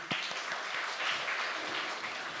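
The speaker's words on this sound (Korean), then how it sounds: "문성광 목사님께 다시 한번 박수 부탁드립니다" Applause for a pastor from a Korean church training-session audience, a steady crowd of hands clapping at moderate level without speech.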